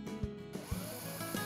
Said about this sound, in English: use exterior grade screws to fasten